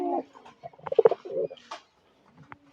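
Pigeons coo up close in short, throaty bursts with pauses between, soft rolling calls rising and falling over a few seconds.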